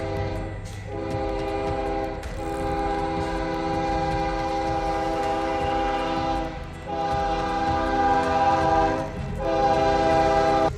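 A nostalgic locomotive passes a railway crossing, blowing long, loud, sustained horn blasts close by over a steady heavy rumble of the train.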